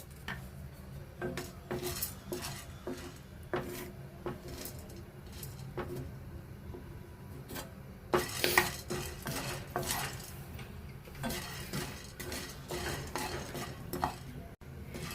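A spoon scrapes and clinks in a pan as chana dal is added and stirred while preparing bisibelebath powder, with repeated sharp metallic ticks over a low steady background.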